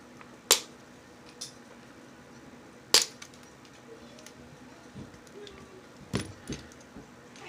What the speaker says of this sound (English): After I get one installed, I cut the leads.